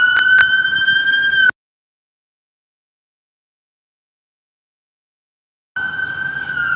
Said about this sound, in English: So with the ambulance, I had to pause for a bit to let the ambulance